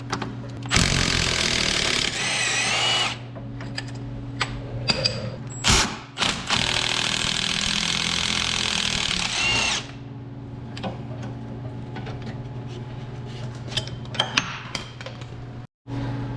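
Impact-style power tool spinning off a 15 millimeter sway bar end link nut on a GM/GMC 2500/3500HD truck, loud sustained buzzing bursts with brief stops, close up and alone.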